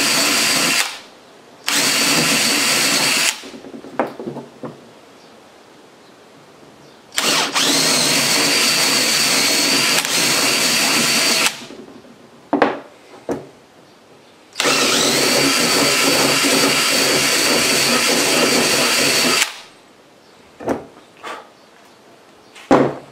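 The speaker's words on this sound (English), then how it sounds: "I'm going to go with the drill bit that's the same size as my rod" A power drill runs in two long bursts with short stops between, enlarging pilot holes to fit support rods for a vermicomposting stand, loud and close with handling clatter in the gaps.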